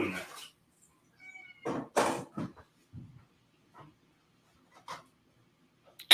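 A house cat meows in a home kitchen during a cooking session, a few short, fairly faint calls scattered across quiet pauses, with soft speech-like sounds and light clatter mixed in.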